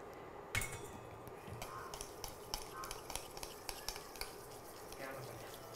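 Chocolate sauce being beaten and mixed smooth in a bowl, a steady series of light clinking strokes at close range over a faint background, without speech.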